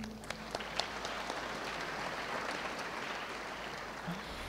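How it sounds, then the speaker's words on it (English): Fairly quiet applause from a public lecture audience, a soft, steady patter of clapping heard from a distance for a few seconds, with a few louder isolated claps early on. "they deserve another round of applause for them"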